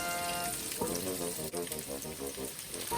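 Steady, close sizzle of bacon crisping in a pan while cooking pasta carbonara, a dense crackling hiss that holds throughout with faint bubbling underneath.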